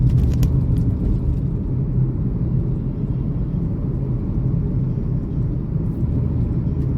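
Steady loud engine and road rumble from inside a taxi car moving through Delhi traffic, a continuous broadband drone with no distinct events and no talking.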